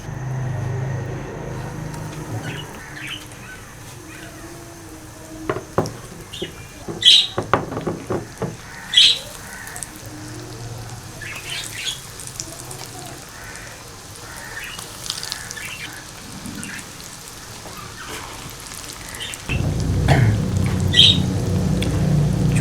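Chicken and potato kababs with green onion fry in oil over a low flame, giving a soft crackling hiss that swells into a loud, steady sizzle near the end.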